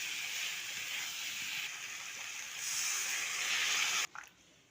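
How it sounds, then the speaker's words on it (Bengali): Water poured into a hot pan of frying peas, shrimp and potatoes sets off a loud, steady hissing sizzle that lasts several seconds, then cuts off abruptly. "এবার জল দিয়ে দেবো।"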